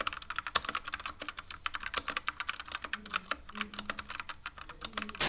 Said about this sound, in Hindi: एक बार इसकी आवाज सुनो, क्योंकि रेड स्विच है ना तो कम आवाज करता है।